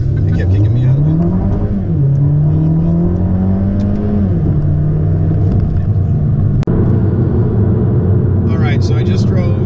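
Hyundai Elantra Sport with a seven-speed dual-clutch gearbox at full throttle, its engine note climbing steadily through the gears from inside the cabin, loud and continuous, with a brief shift dip and faint voices near the end.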